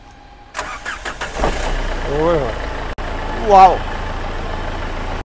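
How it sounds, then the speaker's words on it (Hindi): A 2015-model first-owner car at a Delhi used-car market is cranked with its self-starter. The engine catches, then settles into a close, steady idle with a couple of quick throttle blips, while a voice briefly exclaims. "भाई मैं खुद सेल्फ मारने जा रहा हूँ"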